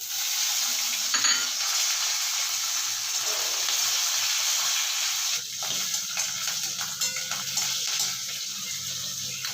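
Black cumin seeds and green chilies sizzling and frying in hot oil in a pan, a steady bright crackle throughout with a faint stirring scrape and a brief louder pop near the start.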